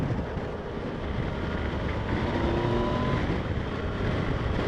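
A Yamaha FJ-09 motorcycle being ridden gives a steady engine drone mixed with heavy wind buffeting on the microphone, continuous and fairly loud with no talking.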